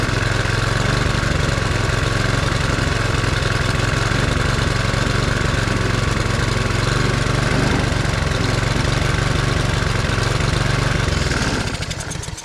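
A small engine idles low after a Seafoam fuel treatment, a loud, close, rough and steady chugging drone that runs unbroken, with no voices.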